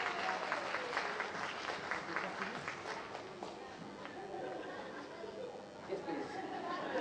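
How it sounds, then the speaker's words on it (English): An audience at a live comedy show gives a round of applause, steady clapping mixed with crowd chatter and some movement that carries through the whole stretch at an even level. "let's give a round of applause, you big brilliant."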